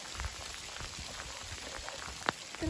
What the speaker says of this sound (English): Look at the hail on her. It's pretty big.